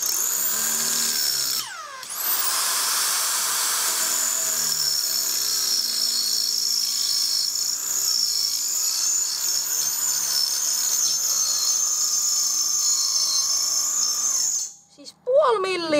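An electric drill, worn and repeatedly overheated, whines steadily while enlarging a hole for an antenna, running close and loud for most of the stretch with a brief pause near the start and a stop at the end.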